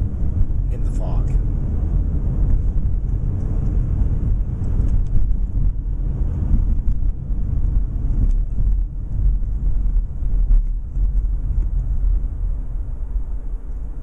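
Steady low road rumble and wind noise inside a moving car on a foggy drive, with someone talking over it throughout.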